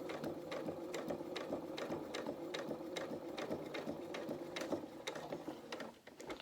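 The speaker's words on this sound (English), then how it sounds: "Turn your speed dial down if you want to, because top stitching needs to be nice and slow and precise." A domestic sewing machine topstitching slowly on a garment, its needle running in a steady, even rhythm of close, sharp clicks over a constant motor hum, loud and near, with no talk.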